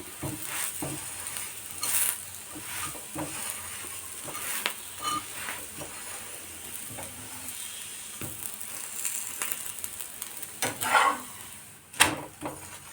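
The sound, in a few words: talipettu flatbread cooking and sizzling on the pan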